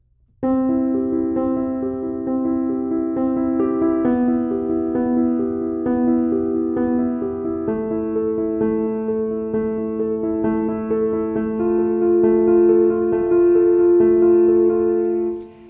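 Sustained chords ring out on a piano, played fast and changing every few seconds in a smooth progression, clear and close with no voices.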